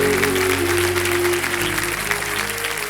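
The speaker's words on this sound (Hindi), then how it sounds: "तालियों के साथ इनका स्वागत है।" A studio audience on a televised quiz show applauds loudly and steadily, with music playing beneath the clapping that eases slightly toward the end.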